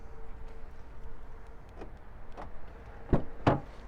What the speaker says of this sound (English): Let's unlock it.